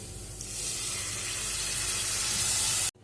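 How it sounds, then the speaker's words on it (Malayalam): Hot water poured onto fried masala in a pan for egg roast sets off a loud, continuous sizzling hiss that swells and then cuts off abruptly. "ഇതിനകത്ത് നമുക്ക് ചൂടുവെള്ളം കുറച്ച് ആവശ്യത്തിന് വെച്ച് കൊടുക്കാം"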